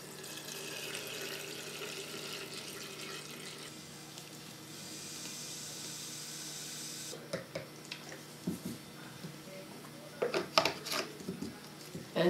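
Liquid tie dye pours into a plastic mixing bottle in a steady, faint trickle, followed by a few small bumps and clicks as the bottle is handled.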